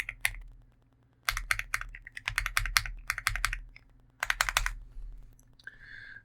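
Keystrokes on a computer keyboard enter a terminal command, with close, crisp clicks arriving in rapid bursts separated by short pauses and no voices.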